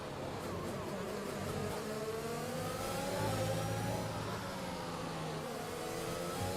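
A Formula 2 racing car engine in a PC racing game at the Hungary round gives off a steady, high, buzzing whine with slowly rising pitch. It stays fairly faint and sounds alone, with no talk.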